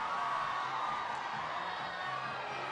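A crowd of fans screams and cheers for Madonna along the red carpet at the Venice International Film Festival, a dense continuous roar heard from amid the throng.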